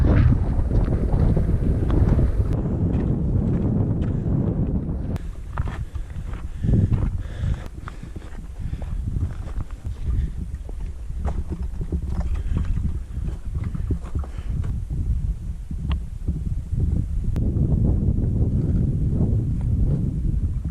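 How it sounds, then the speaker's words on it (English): Strong gusting wind buffets the microphone on a high mountain hike up Mt Elbert, a loud low rumble throughout with occasional footstep crunches and brief lulls. "I'm sure it's really windy sounding right now"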